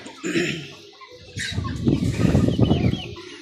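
Colombian Brahma chickens and roosters, buff and light-coloured adult birds, on a farm in Rajshahi: several close clucks and squawks come in short bursts, busier toward the middle of the clip.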